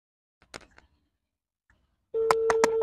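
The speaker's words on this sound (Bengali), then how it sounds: "রিং হচ্ছে কিন্তু লাইনটা কেটে গেছে" A few faint clicks, then a loud steady telephone tone starts abruptly, interrupted by short pulses, like a line cutting off.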